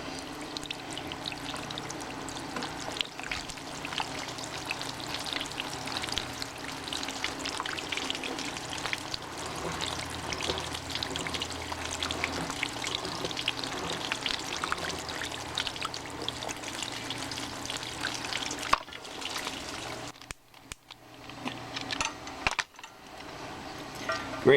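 Water is poured over a warm marine propeller shaft during shaft repair, a steady close trickling stream lasting most of the time before it cuts off into a few clatters near the end.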